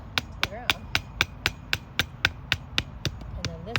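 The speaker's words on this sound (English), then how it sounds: "take my hammer, or you can use a mallet, whatever you have, to pound it on in to the ground." A hammer pounds a tent stake into the ground at an outdoor tailgate setup, about a dozen sharp, evenly spaced strikes close by, with faint voices in the background.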